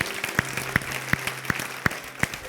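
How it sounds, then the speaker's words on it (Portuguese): A church congregation claps along in a sparse, regular rhythm, roughly three distinct claps per second with a few scattered hands, moderately close and without any voices. "uma salva de palmas novamente para Ele"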